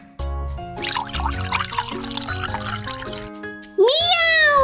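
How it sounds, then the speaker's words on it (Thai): Water pours and splashes beneath a light melodic tune, followed by a high, cat-like meow at the end. "รีบเทน้ำทิ้งก่อนดีกว่า"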